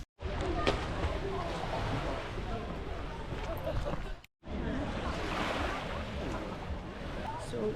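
Waves washing onto a busy thermal beach on Zakynthos, a steady, close rush of surf mixed with wind buffeting the microphone, with one brief dropout and faint voices underneath.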